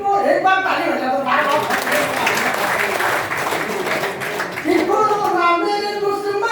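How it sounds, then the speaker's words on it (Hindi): Audience at a Hindi kavi sammelan poetry recital at the DVC Maithon project bursts into a few seconds of loud, dense clapping, with the poet's voice speaking before and after the applause. "कोरोना को एक बार ताली बजा दो"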